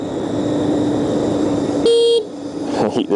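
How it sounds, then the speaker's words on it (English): A short, loud scooter horn honk sounds over engine and road noise, followed by the motor continuing to hum and rev. "there's no way in hell he can hear this scooter, this horn."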